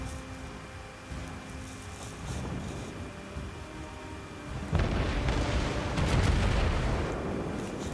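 Naval gunfire from World of Warships rumbles through a steady low battle din, with a heavier burst of impacts and booms arriving in the second half, loud and dense with no talking.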